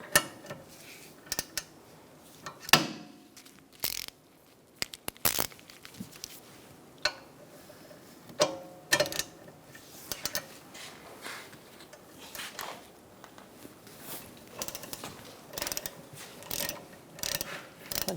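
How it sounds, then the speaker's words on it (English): Hand ratchet with a 7mm Allen socket loosening rear brake bolts on a 2012–2018 Ford Focus: quiet, irregular bursts of rapid clicking, close by, with short pauses between strokes. "now you're going to get your 7mm Allen wrench socket and loosen these up"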